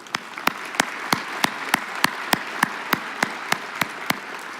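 Sparse, evenly spaced claps ring out at an alumni awards gala, about fifteen sharp hand claps in a steady rhythm, close and moderately loud, like a single person or small group clapping alone.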